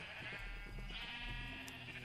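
Sheep in the Minecraft video game bleat in a short, clear electronic burst of a couple of calls, close and alone without talk.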